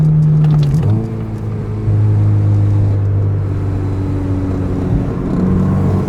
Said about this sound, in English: let's hit that downshift